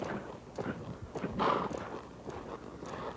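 A horse lopes in an arena during barrel racing practice, its hoofbeats thudding in a steady three-beat rhythm at mid distance, with some snorting and tack noise mixed in.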